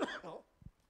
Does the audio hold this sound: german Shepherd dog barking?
no